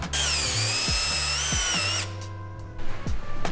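A power drill whines steadily while driving screws through a roof wire pass-through port, sounding loud and close with small pitch shifts. It stops after about two seconds, and brief handling clatter follows.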